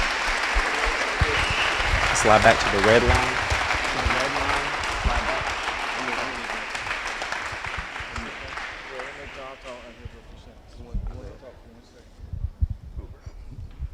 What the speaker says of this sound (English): If we could get one more round of applause for our Hall of Fame inductees.